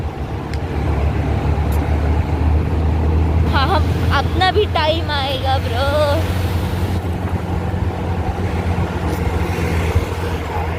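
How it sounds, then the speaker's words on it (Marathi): Many cars drive past on a road in Kothrud, Pune, a steady low engine and tyre rumble filling the whole stretch while someone talks briefly over it partway through. "गाड्यांवर गाड्या चालल्यात मागे."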